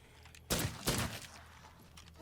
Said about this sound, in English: I think they're still picking up on these gunshots.